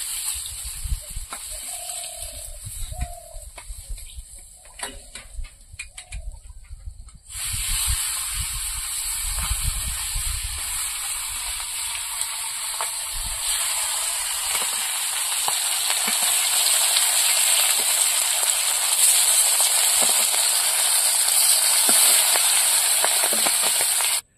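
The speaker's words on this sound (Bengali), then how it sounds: "আর বাকি মাছগুলো ভেজে নেবো এইভাবে" Fish frying in hot oil in a home kitchen, a steady sizzling hiss that grows louder and denser after the first few seconds and then holds, with soft clinks at the start.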